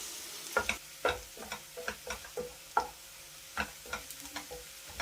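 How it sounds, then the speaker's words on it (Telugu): Coarsely ground onions frying in oil with turmeric and salt give a quiet bed of sizzle, punctuated by a dozen or so sharp, irregular spatula taps and scrapes against the pan. "ఉల్లిపాయలు కోర్స్గా గ్రైండ్ చేసుకుని వేసుకోవాలి. అలాగే పసుపు, ఇంకా ఉల్లిపాయలు త్వరగా వేగడానికి కొంచెం సాల్ట్ వేసుకుని వేయించుకోవాలి."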